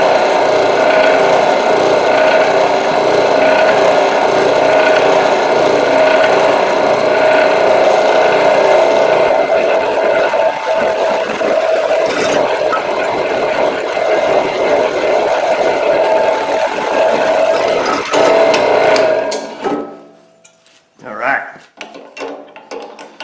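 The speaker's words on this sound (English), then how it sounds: "So we'll poke a 1/2 inch hole through it first and see if we can't ream through it with the 5/8." A drill running a hyper step bit reams a hole through steel for a custom towing receiver, a loud steady grinding whir that winds down and stops near the end, followed by a few clunks.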